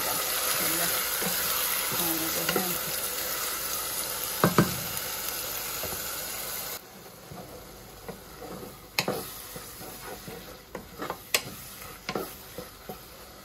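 Lentils tipped into a pan of garlic already fried to a reddish brown give a steady sizzle that fades as the pan settles, followed by a scatter of sharp ticks and scrapes from stirring.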